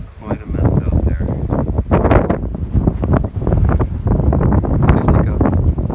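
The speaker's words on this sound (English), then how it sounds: "That's a blizzard. Quite a mess out there." Blizzard wind gusting hard over Raritan Bay, roaring and buffeting the microphone in continuous loud bursts, with someone talking over it.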